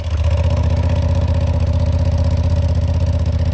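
A 2023 Honda Hornet motorcycle idling, its exhaust giving a loud, close, steady low throb with even pulsing and no change in revs.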